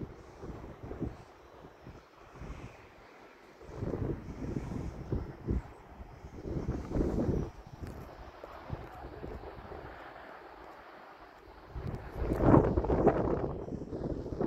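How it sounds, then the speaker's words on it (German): Strong stormy wind buffets the microphone outdoors in heavy, uneven gusts that rumble and swell, loudest near the end. "Der Wind ist wirklich ein Sturm draußen."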